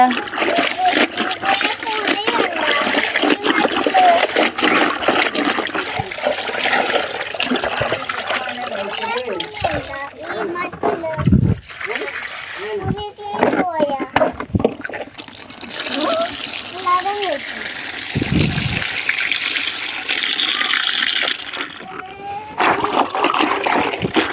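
Clothes are washed in clean water from a hill stream, with repeated splashing and pouring, interrupted by short pauses, while people talk over it almost constantly.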